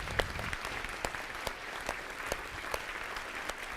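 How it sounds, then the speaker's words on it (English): An audience applauding a speaker at a real estate technology talk, a modest crowd clapping steadily with some sharper individual claps standing out, fairly quiet and a little distant. "Give Yvette a round of applause."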